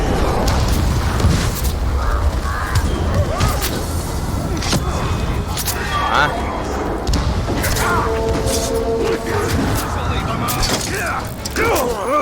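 A character in Middle-earth: Shadow of War dives down and crashes in, a dense, loud burst of game booms, thuds and mechanical clatter that keeps going with the in-game action.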